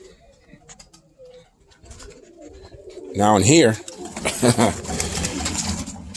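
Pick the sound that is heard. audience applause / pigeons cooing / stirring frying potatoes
pigeons cooing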